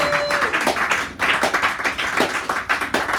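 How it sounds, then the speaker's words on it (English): Applause from a small poetry-night audience at a San Francisco cafe, a dense patter of many hands clapping steadily and close, with no voices over it. "Can I have a round of applause for that?"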